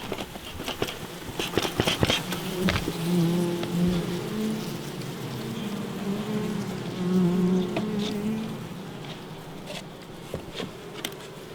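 Steady buzzing from a cluster of honey bees at a hive feeder during winter feeding, a continuous droning hum with soft tapping and rustling bursts throughout.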